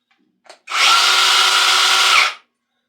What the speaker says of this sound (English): Here you have the handsaw.